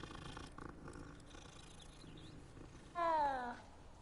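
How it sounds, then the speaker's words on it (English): Soft, low purring from a cat in a video game castle setting, faint and steady, broken near the end by a brief louder meow-like cry. "Oh, hey, look, a cat."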